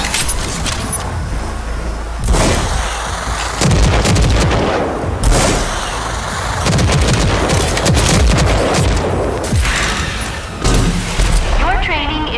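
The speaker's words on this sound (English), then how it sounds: "Rocket launcher's overdrive against the simulated enemies." Rocket launcher fired in overdrive mode against simulated enemies in the RAGE 2 video game, a dense barrage of loud blasts and explosions layered with gunfire-like bursts, heavy and near, with other game sounds and brief voice underneath.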